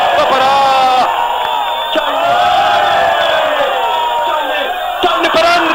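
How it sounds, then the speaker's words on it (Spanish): A large football crowd at a Copa Nacional match between Lavalleja and Canelones del Este roars and chants "ole" in unison, a loud sustained wall of voices rising and falling together, with sharp bursts of noise near the end. "la gente grita, ¡ole!"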